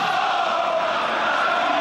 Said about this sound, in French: Écoutez le Stade Chaban-Delmas qui va se lever pour applaudir la sortie de l'homme